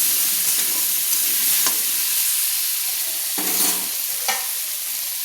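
Potatoes with salt and turmeric are stirred in a frying pan, giving a steady sizzle with a few sharp scrapes of the spatula, close and alone without voices.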